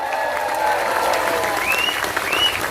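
Audience applause rings out for fan groups at a religious gathering, a dense steady clapping with crowd noise, loud and continuous, with a faint whistle rising over it.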